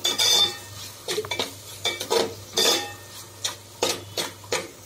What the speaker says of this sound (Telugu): క్యాప్సికమ్ కూడా వేసుకొని ఒకసారి తిప్పేసుకున్నాము।